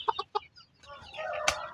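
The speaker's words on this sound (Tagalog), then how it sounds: "Kinakuyawan ni sinyala ni nga manok." A few short clucks from a chicken at close range, followed by a longer, louder squawking call from the bird. The chicken has four legs.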